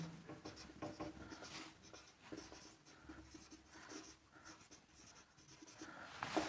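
Chalk or marker scratching steadily across a board as a definition is written, with repeated strokes and short pauses, close and fairly quiet, with no talk.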